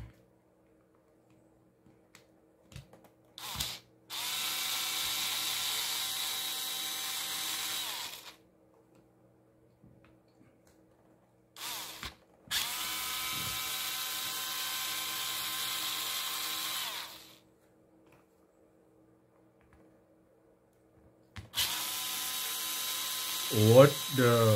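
A Milwaukee M18 drill with a faulty brush card runs in three separate bursts, each a steady whir lasting several seconds with quiet gaps between them, close by and moderately loud.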